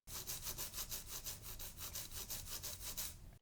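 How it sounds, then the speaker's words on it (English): Rapid back-and-forth scraping of a LucidSound LS100X headset against a desk, a rhythmic rasping with about a dozen strokes, fairly faint and close. "So I'm going to start scraping it on the desk now."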